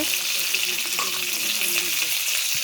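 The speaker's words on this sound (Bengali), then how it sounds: "দেখো এই যে এখানে কই মাছ ভাজি হচ্ছে" Koi fish (climbing perch) frying on a clay stove, giving a steady, dense sizzle that holds evenly throughout with no one talking.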